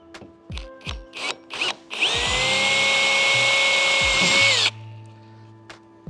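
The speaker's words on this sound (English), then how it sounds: "So I'll just drill a pilot hole" A power drill bores a pilot hole while mounting a Lowrance Recon electric trolling motor to a boat, a loud steady whine lasting a few seconds, framed by sharp knocks and clicks before and after.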